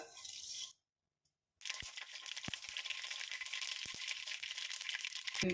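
Mustard seeds heat in plenty of hot coconut oil for a Chinese potato pickle: after a brief silence, a soft, steady crackle with a few sharp pops sits faint and close.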